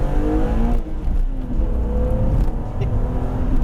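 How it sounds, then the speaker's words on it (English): A BMW Z3 M Coupe with a naturally aspirated inline-six drives past loudly and up close, its engine note holding a steady, droning pitch that shifts slightly throughout the clip. "6-in-line natural aspirated, my goodness, this is pure music."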